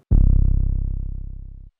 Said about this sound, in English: I've picked the Cymatics 808